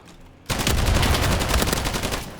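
Machine gun firing in a World War II video game: a rapid, loud burst of clattering shots rattling on for about two seconds, close and alone.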